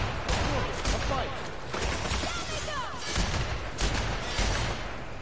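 Rapid bursts of gunfire crackle through a fight in the video game The Outer Worlds, dense and continuous with layered impacts over several seconds.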